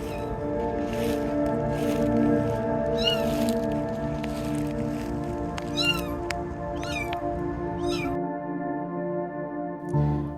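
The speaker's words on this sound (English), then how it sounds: "Who do I call about a kitten stuck in a hole?" A kitten stuck in a pipe hole meows repeatedly, thin high cries every second or so over a steady mechanical hum, loud and close, until the hum drops out near the end.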